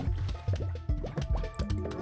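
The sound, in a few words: zombies splashing into water in Plants vs. Zombies video game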